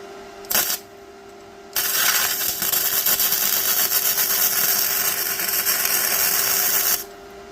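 Vevor MIG-130 welder fusing a grounding bolt in place at a wire speed of 1.5, giving a steady, loud crackling hiss that runs unbroken for about five seconds after a brief opening spark.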